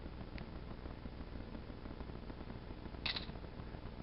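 BlackBerry Bold 9650 phone taking a photo, a soft synthetic shutter click near the end over quiet room hiss, with a fainter click earlier.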